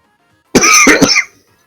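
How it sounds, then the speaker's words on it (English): A single burst of harsh coughing, close and loud, lasting under a second and made of about three quick chesty hacks, with near silence before and after. "Coughing in my ears, sir"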